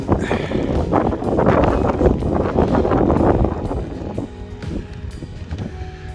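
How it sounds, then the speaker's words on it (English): Strong wind buffets the microphone on the summit of Sgòrr Ruadh in Torridon, Scotland, a loud continuous roar and rumble that eases slightly toward the end, with no one speaking. "A little bit windier at the summit."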